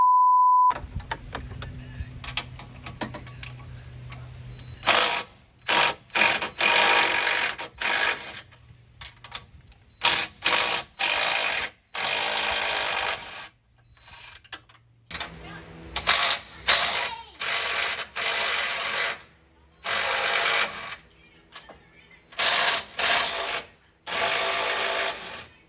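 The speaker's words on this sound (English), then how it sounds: "we can access these nuts right here that are holding the bumper on. These are going to take an 18mm socket." A hand ratchet with an 18mm deep socket loosens the nuts holding the front steel bumper on a Jeep Gladiator Mojave: repeated loud, close bursts of rapid clicking, separated by short pauses, over about twenty-five seconds.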